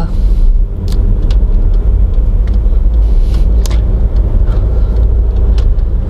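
A Volkswagen Caddy 1.9 TDI with 185,000 km drives along with a steady, loud engine drone and deep road rumble that runs unbroken throughout.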